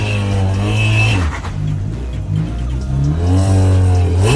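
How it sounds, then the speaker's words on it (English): A Camaro doing a burnout on the street: the engine revs hard and loud, dips briefly in the middle, then climbs into sustained high revs again, heard close with no talking. "A Camaro driver unknowingly did a burnout right behind a police car"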